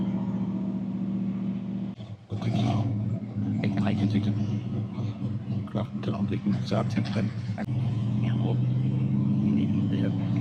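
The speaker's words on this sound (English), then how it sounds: "The high idle and the electric choke work perfectly as well." A 1955 Chevy Tri-Five barn find runs at high idle on its electric choke, a steady low engine hum beneath someone talking nearby, briefly dipping and then resuming.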